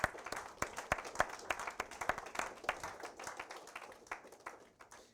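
An audience claps at a National Technical Honor Society induction ceremony at a technical center. The clapping is moderately loud and loosely rhythmic, with distinct individual claps standing out from the wider crowd, and it slowly thins toward the end.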